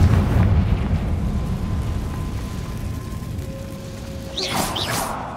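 A Confringo fire spell in Hogwarts Legacy lets out a booming, rumbling blast at the start, fading to a low hum, followed by a brief whooshing burst near the end.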